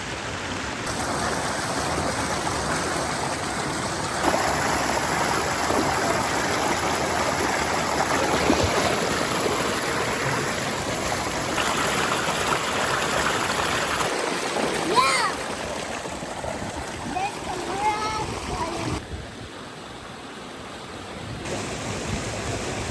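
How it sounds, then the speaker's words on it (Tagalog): Natural spring water flows in the countryside with a steady, close rushing and babbling that continues throughout, the sound shifting slightly in texture and briefly dipping quieter near the end. "Natural spring water."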